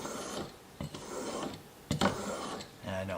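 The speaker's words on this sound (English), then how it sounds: "stone has like a finer, smoother feel to it to restore that edge on the chisel." A chisel edge is rubbed back and forth on a fine sharpening stone, giving soft repeated scraping strokes with short pauses between them, quiet and close.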